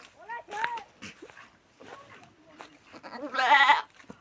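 Goats bleat in short wavering cries, one loud and close near the end, with a person calling out between them.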